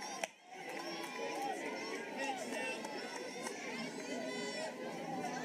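A lively Thursday night crowd at a college softball stadium, BYU hosting UCF, murmurs and chatters in a steady, dense background wash while a commentator talks over it.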